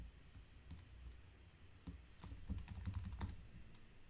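Quiet, rapid clicking of a computer keyboard as someone types into a document, bursts of close keystrokes with brief pauses, no talking.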